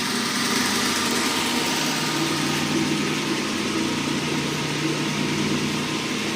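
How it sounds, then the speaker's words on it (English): A Hendey lathe spindle running after a clutch repair, a steady continuous mechanical whir and hum that holds an even loudness throughout with no speech. "Spindle's moving nicely now."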